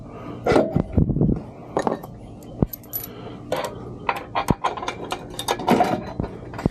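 Metallic clinks and short ratcheting taps as bolts are started by hand on removable side assist steps for a Colorado ZR2 or Canyon AT4X truck, irregular and close up.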